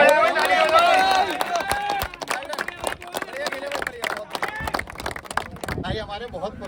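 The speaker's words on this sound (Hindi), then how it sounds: "ताली हो जाए, ताली हो जाए।" Spectators at a local cricket match prize ceremony break into scattered, sharp hand claps amid chatter, with a voice announcing over the crowd at the start.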